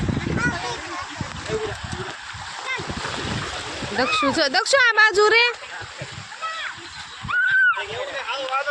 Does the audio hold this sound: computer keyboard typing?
no